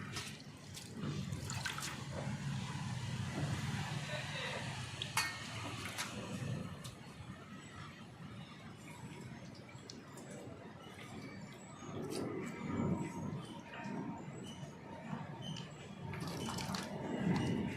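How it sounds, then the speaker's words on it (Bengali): Wet cauliflower leaves squeezed by hand over a large bowl, with soft squishing, dripping and trickling water plus occasional light clinks, fairly quiet. "জলটা নিংড়িয়ে নিংড়িয়ে এইভাবে তুলে নেব"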